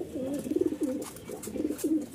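Domestic pigeons coo while feeding in a loft, several soft rolling calls repeating close by in a loose rhythm, with no talk over them.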